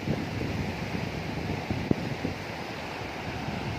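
Waves wash onto Tanjung Binuangeun beach in Lebak, Banten, a steady broadband surf roar with some wind buffeting the microphone and one brief knock partway through.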